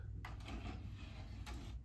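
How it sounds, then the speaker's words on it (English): The tape drawer of an Optimus cassette deck clicks and slides open or shut, two brief mechanical clatters close by over a quiet, hissy room. "Well, the drawer works."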